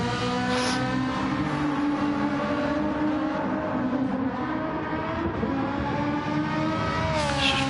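A Ferrari racing car in the GT Pro video game holds a steady, loud, high engine drone through corners, with gear-change shifts near the end and no voices.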